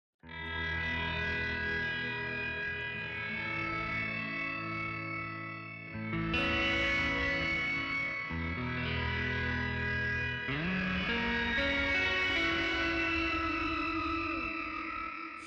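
Sustained guitar chords wash through a Dark Star Stereo ambient reverb pedal with shimmer set two octaves up, producing a dense, bright, ringing wall of sound that swells with each new strum and stays loud throughout, with no talk.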